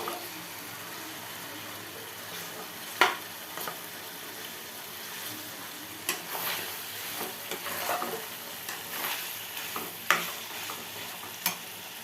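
Meat being stirred and fried in a pan, a steady close sizzle with scattered scrapes and clinks of a spoon against the pan, no talk.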